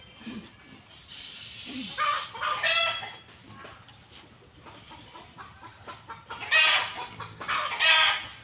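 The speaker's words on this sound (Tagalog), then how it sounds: "Ayan, may nangingitlog na namang manok. May maingay na naman." A hen clucks loudly in rising bursts after laying an egg, breaking into excited squawks twice, close by with quieter farmyard noise between outbursts.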